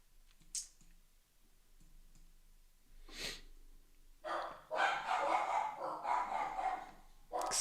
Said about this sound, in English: Excuse the barking.